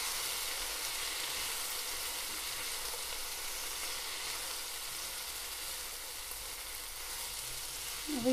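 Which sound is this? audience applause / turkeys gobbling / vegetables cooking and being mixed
vegetables cooking and being mixed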